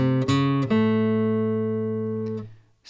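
An electric guitar plays the short closing riff of a chorus: two or three quick strummed chord stabs, then a sustained chord that rings out for about two seconds before being cut off. It is loud, close and alone.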